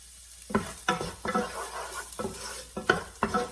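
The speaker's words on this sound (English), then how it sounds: "I'm going to saute the onion." Onion sautéing in oil in a pan, stirred with a few scraping strokes over a steady close sizzle, alone with no talk.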